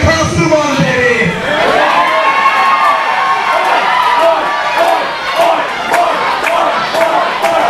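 A crowd at a live indoor wrestling event in Clearfield cheers and shouts loudly, with whoops and chanting voices forming a dense, sustained roar.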